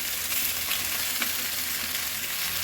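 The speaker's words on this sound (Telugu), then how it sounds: "ఇవి టమాటాలు వేస్తున్నాను అలాగే క్యాప్సికమ్ ముక్కలు" Tomatoes and capsicum pieces fry in a dry kadai with no oil, giving a dense, even sizzling hiss that stays loud and close throughout.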